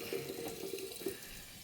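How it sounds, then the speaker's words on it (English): Water runs from a tap into a sink, a steady close splashing stream at low volume with no talking. "I'm going to turn this water on just a little bit. And I'm going to fill my sink"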